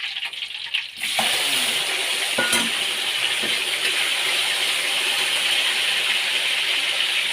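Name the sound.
tomatoes frying in a pan for sambal terasi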